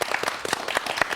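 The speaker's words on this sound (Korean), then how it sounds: "박수 감사합니다" Short burst of audience clapping at a Korean panel talk on virtual reality, dense and fairly close, with no talk over it.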